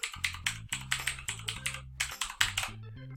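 A web address typed on a computer keyboard, a steady run of about a dozen crisp, close keystrokes in a quick, even rhythm, each with a short resonant tail, and no speech.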